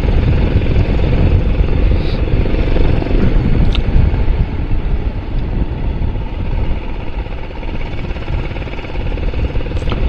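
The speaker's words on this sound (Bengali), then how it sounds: "13 নম্বর জাতীয় সড়কের ওপর দিয়ে স্বচ্ছন্দ গতিতে চলছে আমাদের দুজনের বাইক" Motorcycle ride along National Highway 13 in Arunachal Pradesh at a steady 50-60 km/h, a loud continuous engine drone mixed with heavy wind rush for the whole stretch, with no talking.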